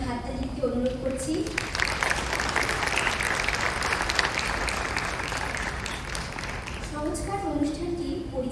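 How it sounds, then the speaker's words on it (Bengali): Sustained applause from the audience at a Rabindranath Tagore birth anniversary cultural programme at IIT Bombay, dense clapping swelling for several seconds and then fading, with a voice talking faintly over the start and end. "সবাইকে জোরে আরো একবার হাততালি দিতে অনুরোধ করছি।"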